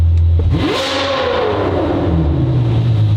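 A tuned Ferrari V12 with a Gintani tune of about 600 horsepower revs hard once, close and loud, its pitch climbing then falling back to a steady idle rumble.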